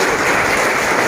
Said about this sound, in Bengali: পার্থভূমিকের পক্ষ থেকে একটু হাততালি চাই